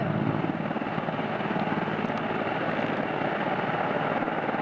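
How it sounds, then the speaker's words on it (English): A helicopter passes overhead on a trip through Norway, Sweden and Central Europe, its steady rotor thump and engine roar loud and continuous throughout. "this chopper just flew over our heads"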